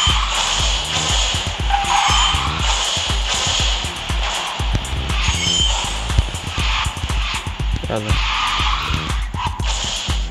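Tires squeal and skid as a car drifts in QQ Speed Mobile, a continuous loud screech with engine roar and rapid ticking effects running throughout, with some speech mixed in.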